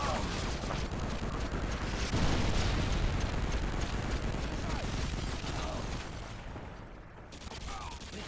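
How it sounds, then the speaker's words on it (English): Predator missile strike in an Xbox 360 shooter game, a dense, sustained roar of explosion and rumbling debris filling the whole stretch, loud and continuous before tailing off slightly near the end. "Friendly Predator missile inbound."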